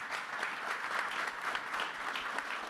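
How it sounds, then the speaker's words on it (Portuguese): Audience applause in a Brazilian Senate hearing, a dense, steady clapping from many hands that fills the room at moderate volume without pause. "Pediria a ele uma salva de palmas."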